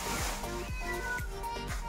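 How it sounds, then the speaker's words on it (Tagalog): Several cats meow just outside beside a house, a run of about four drawn-out, close meows repeating steadily over a constant background hum. "Kung naririnig nyo po pala yung mga pusa natin, nasa side po sila."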